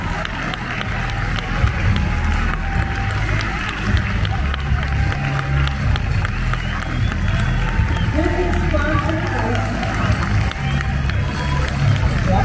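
A crowd at a horse show at the Florida Horse Park reacting as a team of champion Percheron draft horses leaves the track, a broad steady roar of cheering and clapping mixed with hoofbeats and an announcer's voice over a loudspeaker.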